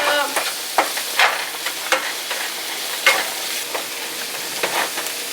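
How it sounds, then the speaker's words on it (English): Black pepper and paprika being mixed into a cooking dish: a steady run of close scraping and stirring strokes every half second or so over a soft sizzle, with no voices. "Black pepper. Little paprika. And then mix that up."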